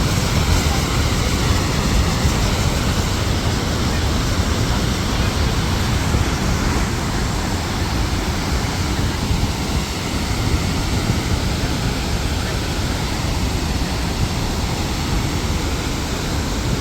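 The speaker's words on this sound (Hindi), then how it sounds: "जब जल ऊपर से नीचे की ओर जाते तो कितना मस्त प्यारा मधुर आवाज़ निकलते।" Chitrakot Waterfall in Bastar, Chhattisgarh, roars steadily as water pours down, a dense continuous rushing wash that stays loud and unbroken throughout with no voices.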